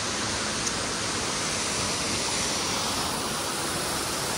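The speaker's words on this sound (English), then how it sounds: "So here we are, hanging out up the waterfall." Bridal Veil Falls waterfall in Provo Canyon, Utah, a steady broad rushing roar of falling water, loud and unbroken from start to finish with no voices.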